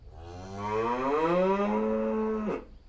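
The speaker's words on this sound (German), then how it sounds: "der Chat hat Winnie für jedes Mu mit einem Leckerchen belohnt" A single long, loud cow moo, starting low and swelling into a sustained bellow before cutting off sharply, with no voices around it.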